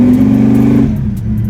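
A blown big-block Camaro engine of about 800 horsepower revs loudly and close by in a garage, holding a deep high-revving roar before the pitch drops back toward a rumbling idle.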